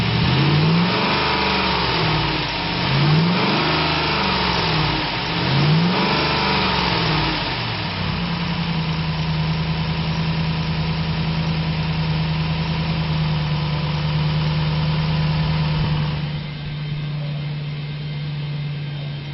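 A 2007 Dodge Ram 1500 pickup with a 5.7 liter engine and automatic transmission revs in three rising-and-falling pulls, then settles into a steady, close idle that drops lower near the end.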